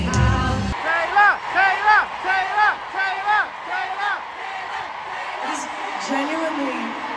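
A massive stadium crowd at a concert in Liverpool roars and chants in rhythmic, sing-song bursts of cheering that rise and fall several times, loud and close.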